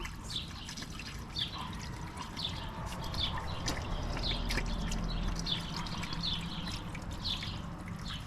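Water from a garden hose trickles and splutters steadily outdoors, an uneven gurgling flow at moderate volume with faint birdsong in the background.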